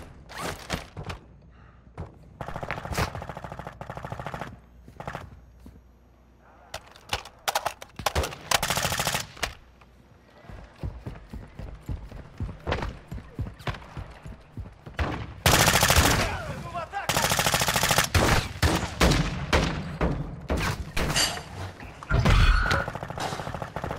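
Rapid automatic gunfire and bursts of shots in the Call of Duty DMZ video game, loud and dense throughout with some impacts and shattering, alongside occasional radio-style voice lines.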